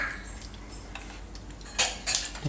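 Mustard seeds dropped into hot oil in a pan over low gas flame while cooking Gujarati maize dal, giving a few faint crackles and light metallic clinks of pan and utensil against a quiet kitchen background.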